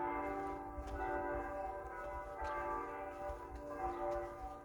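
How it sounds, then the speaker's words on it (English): Church bells ring downtown in Marfa, Texas, several bells sounding overlapping sustained tones with repeated strikes, steady and moderately distant, with no talk. "as you can hear, the bells are ringing"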